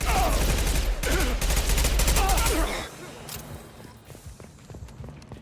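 Dense burst of Mass Effect 2 combat gunfire, loud and rapid for about three seconds, then dropping to scattered quieter shots and thumps.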